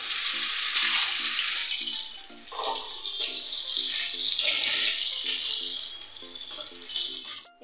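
Boiled potatoes fry in a pan of hot oil tempered with whole cumin and bay leaf, giving a steady loud sizzle with stirring scrapes and occasional water-like splashes, no talking.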